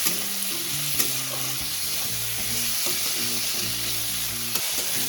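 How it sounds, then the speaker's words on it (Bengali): Chopped tomatoes and salt are stirred in a frying pan for bhola fish curry, giving a steady close sizzle with occasional scraping stirs, while tonal background music plays throughout. "টমেটো কুচি দুটো দিয়ে দিয়েছি। দিয়ে এবার দিয়ে দেবো ছোটো চামচে 1 চামচ পরিমাণ নুন, দিয়ে একটু নাড়াচাড়া করবো।"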